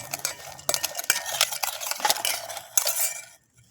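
Food being mixed by hand or spoon in a metal bowl, with steady close scraping and clinking strokes in an uneven rhythm, louder bursts now and then, before stopping abruptly near the end.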